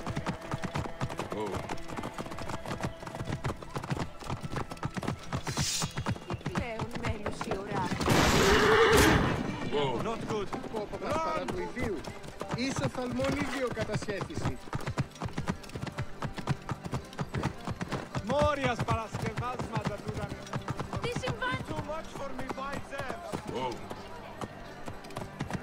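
A horse in Assassin's Creed Origins gallops with continuous rapid hoof clip-clops throughout, and a loud whinny rises near the middle. Someone talks over the action for much of the time.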